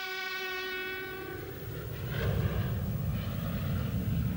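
A robot train in an animated Transformers series sounds a sustained, harmonic horn blast that fades out, followed by a loud rumbling roar as the train surges forward.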